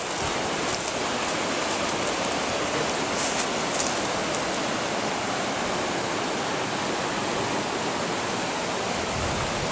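A creek running high at a gold prospecting spot, giving a constant, loud, broadband rush of water with no breaks and no voices.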